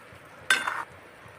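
A single short scrape of a utensil stirring stuffed bitter gourds in hot tempering oil in a pan, with a brief sizzle and light metallic clink, then quiet again.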